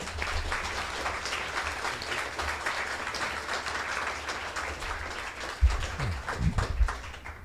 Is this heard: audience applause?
yes